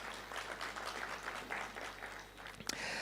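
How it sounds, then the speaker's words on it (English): A room full of people at a financial literacy workshop claps in a round of applause, a soft, steady patter of many hands heard from a distance at low volume. "A round of applause, please."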